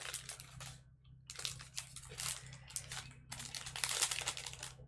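A sheet of fluid watercolor paper being handled close up, with crisp crinkling and rustling bursts in irregular clusters and brief pauses, over a faint steady low hum.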